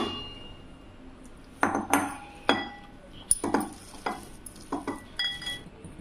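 Ground sweet corn is scooped into a bowl for a spicy parotta. After a quiet start come a series of close scrapes, clinks and knocks of a utensil against the containers.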